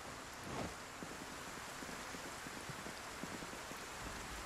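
Rain falling in a video game, a quiet steady hiss of rainfall with scattered soft drop ticks, heard alone without talk.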